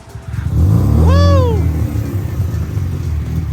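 A Mazda RX-7 with a 13B rotary engine starts up and idles nearby, a loud rising rev swelling over a deep rumble before settling into a steady, slightly buzzing idle.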